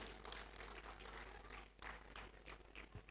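A crowd at an evening cultural show for the Ganesh Festival in Ballarat gives a round of applause, heard as a faint, distant, continuous patter of many hands.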